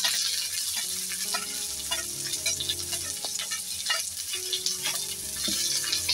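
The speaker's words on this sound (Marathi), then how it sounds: "आता मी टाकून घेणार आहे कांदा." Onion sizzles and fries with garlic in hot oil in a pan, a steady crackling hiss with scattered pops and occasional stirring scrapes throughout, close and moderately loud with no talking.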